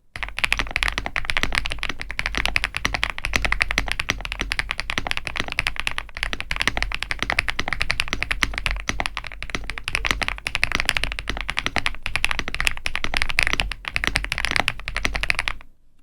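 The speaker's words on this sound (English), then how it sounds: "let's get to the typing test." Rapid, continuous clacking of keys on an Epomaker TH85 mechanical keyboard, dense and close-up, with no talking.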